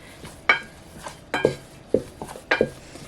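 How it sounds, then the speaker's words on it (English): A spoon scrapes and knocks through thick choux pastry dough in a hot pan just taken off the heat, giving several distinct clanking strokes at a steady, unhurried pace, close and clear with no talk. "I just want to stir it a little while longer because my pan does stay hot for a while"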